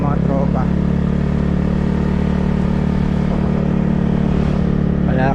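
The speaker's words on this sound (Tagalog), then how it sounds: "Kaya kailangan din nating magmotor." A motorcycle engine runs steadily and loudly close by on a farm road, a constant low drone throughout, with a person speaking over it.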